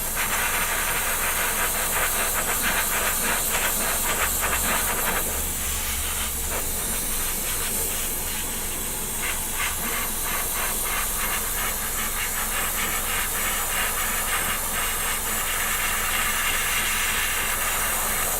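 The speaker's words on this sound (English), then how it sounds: "if you're using an airbrush, always keep your airbrush moving" An airbrush sprays paint onto a Pegasus Hobbies War of the Worlds model kit, giving a continuous close airy hiss with a steady compressor hum underneath, running unbroken throughout with small fluctuations as the brush moves.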